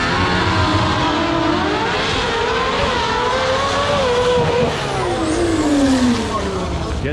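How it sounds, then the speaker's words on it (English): Pontiac and Chevrolet drag cars with turbos launching down a drag strip at a street-racing event, a loud sustained engine roar rising in pitch as they accelerate away, with an announcer talking over it. "We got a Pontiac versus a Chev, I think. Here they go, staging in, both bulbs on,"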